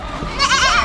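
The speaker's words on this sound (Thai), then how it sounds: "เป็นแพะตัวเล็กเหรอ" A small goat gives one short, close bleat with a quavering, nasal tone, heard loudly over a noisy background.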